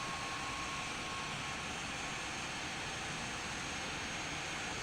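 Simulated IXEG Boeing 737 jet engines spooling up for takeoff at London Heathrow in X-Plane 12, a steady, loud broadband roar that holds without pause and carries no voices.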